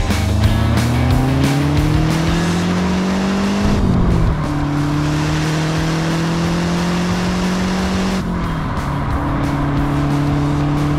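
A Lancia Delta HF Integrale rally car drives with a loud, steady engine note that rises through the gears, with two clear shifts and tyre noise, close and continuous with no talk.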